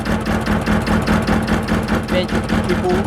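A steady, low Ursus C-330 tractor engine idle chugs along continuously with a rumbling rhythmic pulse, close by, with some faint mechanical clatter on top.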